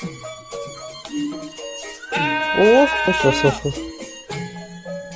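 Cartoon goat bleats in a wavering, drawn-out cry mixed in with lively animated voices talking before and after.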